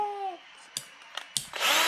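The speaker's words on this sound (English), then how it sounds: "now we're going to make a hole, a bigger hole at the other end of the egg with a drill bit" A power drill with a bit bores a hole in an ostrich eggshell, giving short grinding bursts and clicks before a louder, steady whirring scrape at the end.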